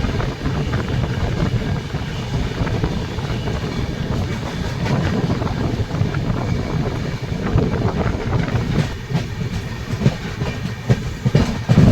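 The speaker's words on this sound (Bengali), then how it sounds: "সকাল সকাল train Aluabari road junction enter করছে" Kamrup Express running on the line as it enters Aluabari Road junction on a foggy early morning: a steady, loud rumble with rolling wheel clatter and wind buffeting, continuous throughout with no voices.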